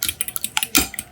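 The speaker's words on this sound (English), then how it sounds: "Whisk, whisk, whisk." A utensil whisks eggs with a little salt in a bowl, giving quick, rhythmic clicks and taps against the bowl. The strokes are close and distinct, with no talking.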